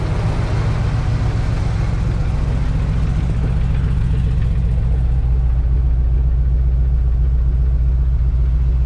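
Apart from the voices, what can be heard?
1962 Chevrolet C10 pickup engine idling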